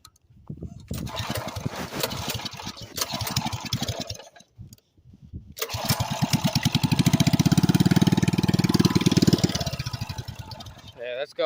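A small engine sputters, cuts out briefly, then starts and runs with a steady, rapid putter, fairly close and loud.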